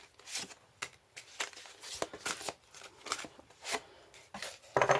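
Tarot cards are shuffled and drawn up close, a series of soft papery riffles and swishes in uneven bursts, with a brief crisp snap at the end and no talking.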